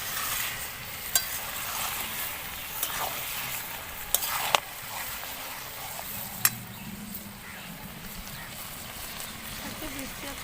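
Mutton kosha with meat masala is stirred in a pan, a continuous frying sizzle with scraping strokes and a few sharp clacks of the spoon against the pan, with faint voices in the background.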